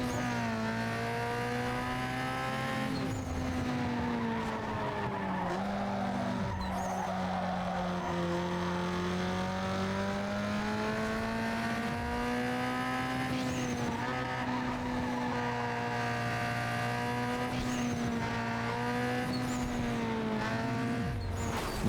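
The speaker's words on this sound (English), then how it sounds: "I'm sort of like drifting around the corners like I'm trying to get points." Car in Need For Speed Underground 2 drifting around corners, a continuous engine drone rising and falling in pitch with repeated tire squeals and skids, steady and close throughout.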